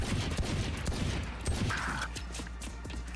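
Bursts of gunfire in Valorant, the shots crackling rapidly in quick clusters over a steady, busy game backdrop, loud and close throughout.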